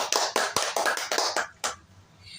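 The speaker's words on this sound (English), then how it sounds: "Let's give her a round of applause." A small talk-show audience claps in a short burst of distinct, sharp hand claps that thin out and stop after about two seconds, with no talking.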